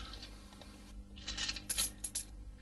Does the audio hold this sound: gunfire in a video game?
no